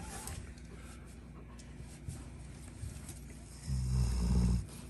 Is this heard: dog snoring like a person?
yes